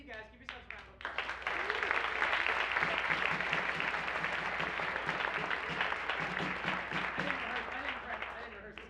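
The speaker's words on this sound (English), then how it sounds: "Give yourselves a round of applause." Audience at an improv troupe's farewell show gives steady, full applause after brief speech, a dense wash of clapping that holds evenly and fairly close to the end.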